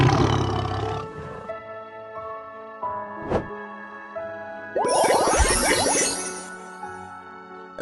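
A tiger roaring loudly and close, opening with a deep growling roar and ending with a long, rough, harsh roar, over soft background music with a chime between them.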